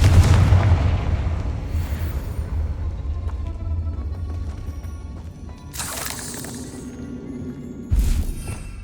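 Confringo fire spell blasts in Hogwarts Legacy, with heavy booming impacts and crackling bursts over a dense rumbling game soundscape, the loudest bursts coming near the end.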